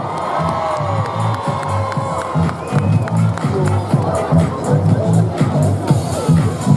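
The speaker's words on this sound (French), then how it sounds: "Faites du bruit, s'il vous plaît, applaudissements." A crowd at the 2017 Christmas parade in Châteauroux cheers and shouts for passing Miss contestants. Children's voices and whoops rise over a pulsing rhythmic beat of background music.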